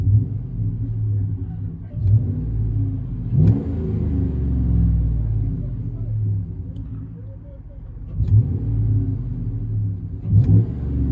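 Cabin view of a 2012 Chevy Silverado LTZ with a 5.3L V8 and dual Flowmaster Super 10 exhaust: a deep, steady exhaust rumble with several short revving swells, heard from inside the truck.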